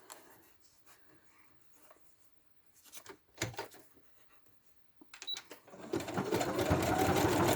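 Sewing machine stitching scraps of faux leather into patchwork, with bursts of rapid needle chatter separated by pauses as pieces are pulled in and rejoined, ending in a longer, louder continuous run of stitching.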